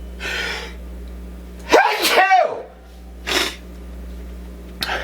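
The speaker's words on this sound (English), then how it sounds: "You don't get sneezes like that for free." One loud, sharp sneeze up close, preceded by a sharp inhale and followed by breathy sniffs in a quiet room.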